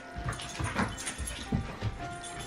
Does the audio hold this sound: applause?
no